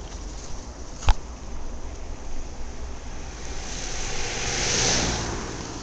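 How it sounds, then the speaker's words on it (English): A kei truck approaches and passes on a back road in Itoshima, Japan, its engine swelling and then fading under constant wind rush from a moving bicycle, with one sharp knock early on. "there's a K truck or K Tora coming my way"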